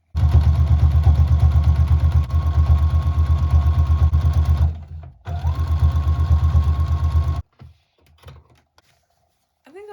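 A sewing machine runs in fast, steady stitching bursts while pink ribbon is sewn over the inside seams of a patchwork tote, pausing briefly, then stopping for scattered quiet handling sounds.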